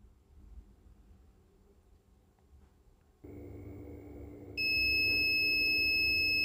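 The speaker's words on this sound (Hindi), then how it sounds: "एक बार हम इसको मल्टीमीटर से चेक करेंगे" A multimeter checks a shorted Oppo A15s phone board. After a few seconds of faint hum, a steady electronic tone switches on, then jumps to a louder, piercing continuous beep that holds to the end.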